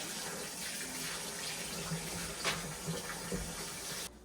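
Tap water running into a sink while vegetables are washed in it, a steady, moderately faint hiss of flowing water with light splashes and handling noises, ending abruptly as the flow stops.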